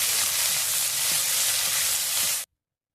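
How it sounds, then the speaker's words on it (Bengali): Chopped onions sizzle loudly in hot oil in a pan while cooking a jackfruit curry, giving a steady dense hiss with light stirring clicks for about two and a half seconds before it cuts off. "পেঁয়াজ কুচি দিয়ে দিলাম, ভালো করে ভেজে নেবো পেঁয়াজটাকে"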